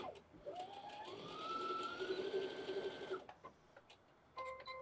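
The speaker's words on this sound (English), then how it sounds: "I'm going to put my presser foot down. Do your reverse." A sewing machine runs steadily for about three seconds, stitching a handbag seam in reverse, with a whirring motor tone that rises at the start and then cuts off, followed by faint handling noise.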